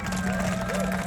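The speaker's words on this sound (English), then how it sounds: "can I get another round of applause for Andreas Pointinger?" A crowd at a Porsche car meet during Car Week claps and cheers for a guest on stage, a dense, steady wash of applause with voices mixed in throughout.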